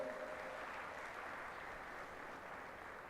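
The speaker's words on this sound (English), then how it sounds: "Please welcome them with a big round of applause" An audience at a project management awards night in India claps in a steady, even round of applause that carries on without a break and tapers slightly toward the end.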